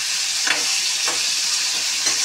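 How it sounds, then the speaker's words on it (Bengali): Vegetables frying in a pan with salt, a constant loud hissing sizzle broken by three regular stirring scrapes, no voices present. "এবার এইগুলো একটু ভাজা ভাজা হোক"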